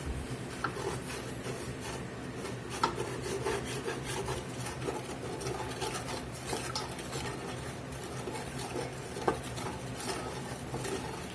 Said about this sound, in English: We're just kind of keeping this stirred about. Scraping them goodies off the bottom of the pot.